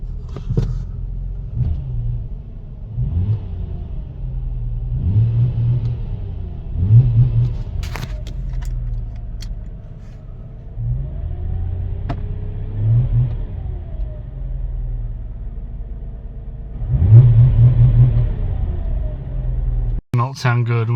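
A Nissan Skyline V35 with a check engine light on idles roughly and revs repeatedly, several swelling rises and falls of engine note over about twenty seconds, close by with some voices.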